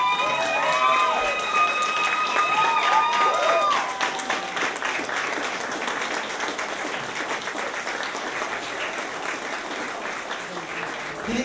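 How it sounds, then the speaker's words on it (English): An audience at a Rick's Music World summer jam camp concert applauds steadily, with a few shrill whistles in the first seconds before the clapping settles into a sustained, even roar. "Give them a big round of applause"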